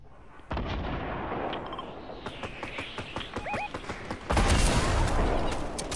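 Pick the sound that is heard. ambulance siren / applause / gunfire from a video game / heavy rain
gunfire from a video game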